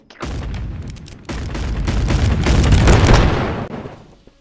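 Pistol shots in the VR game Animal Company, several loud booming bursts that run together into a sustained blast of gunfire, with no talk over them.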